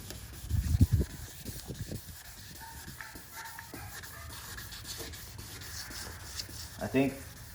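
Someone hand-sands a long car headlight with 800 grit sandpaper, producing soft, uneven rubbing and scuffing strokes at close range, with a louder burst near the start and scattered handling noises.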